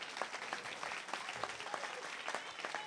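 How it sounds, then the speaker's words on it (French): A crowd at a religious gathering applauds in acclamation of Jesus, a steady patter of many hands clapping at moderate distance with no break. "On acclame Jésus."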